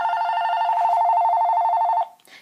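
Mobile phone ringtone sounds loud and close, a rapid trilling electronic tone held for about two seconds before cutting off abruptly.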